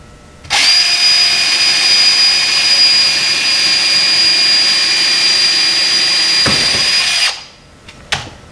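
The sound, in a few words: power drill drilling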